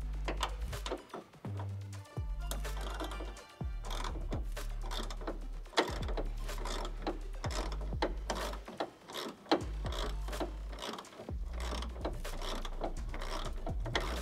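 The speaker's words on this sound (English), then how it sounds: "Let's take your 10 millimeter socket, start loosening that up." A ratchet with a 10 mm socket loosens taillight bolts on a second-generation Toyota Tacoma, giving repeated close, crisp clicking bursts in back-and-forth strokes, broken by brief pauses and a few knocks.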